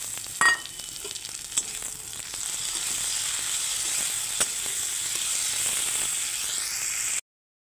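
Chopped tomato frying in a hot pan for a fish-head and Malabar spinach curry, a steady close sizzle with a brief louder crackle as it goes in, then an even hiss throughout.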